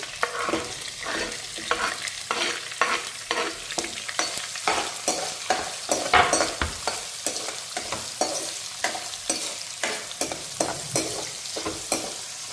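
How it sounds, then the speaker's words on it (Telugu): Onions, curry leaves and green chillies fry in oil for gongura chicken curry, a loud steady sizzle punctuated by a regular rhythm of spatula scrapes against the pan throughout. "నెక్స్ట్ అయితే ఆనియన్ కూడా వేసేసి ఫ్రై చేస్తూ ఉన్నామండి"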